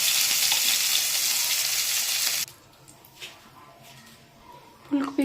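Potatoes frying in a pan, a strong close sizzle that fills the first half and then cuts off abruptly, leaving quiet kitchen sounds and a brief voice near the end.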